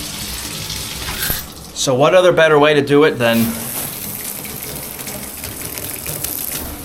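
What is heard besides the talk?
shower water spraying on a golf rain jacket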